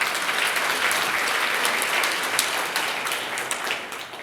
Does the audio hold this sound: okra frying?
no